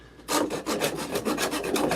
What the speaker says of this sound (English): when I'm sawing, I mean that just sawed through that huge area there